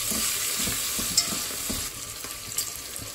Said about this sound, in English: And now let's add the chopped tomato. It's just one medium tomato. Continue stirring.